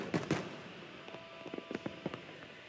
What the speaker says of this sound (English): the fireworks display would never end